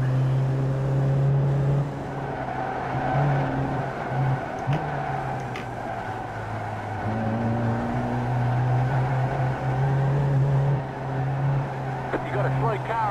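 Race car engine in the iRacing sim, a steady loud drone with shifting pitch tones running throughout, other cars nearby, while a voice talks over it.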